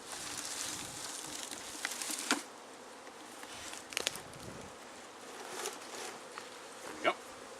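A swarm of honeybees clinging to a cut limb buzzes steadily and densely at close range while being moved toward a hive, with a few brief rustles and knocks rising above the hum.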